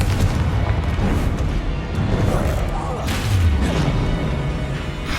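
A Confringo blasting spell in Hogwarts Legacy sends loud, rumbling blasts through dense battle noise, with a deep boom swelling midway. A voice calls out nearby.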